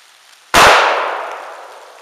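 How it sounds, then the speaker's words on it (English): A single sharp gunshot from a Century JW 2000 double-barrel 12-gauge coach gun fitted with a .45 Colt adapter, fired at a 12-inch round steel plate 25 yards away. The loud crack rings out alone, then decays over a long tail. "I'm going to be shooting at a 12-inch round steel plate at 25 yards"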